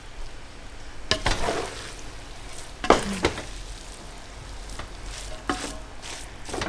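Chicken chow mein sizzling in a hot pan as it is stirred, a steady fry with several sharp scraping clatters of the utensil against the pan.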